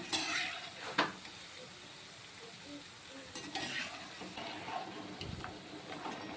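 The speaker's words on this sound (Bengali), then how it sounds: "আবারও কিন্তু আমি একইভাবেই গজাগুলি ভেজে নেব।" Jaggery gaja sweets fry in hot oil over medium heat with a faint, steady sizzle, broken by occasional clinks and scrapes of stirring from close by.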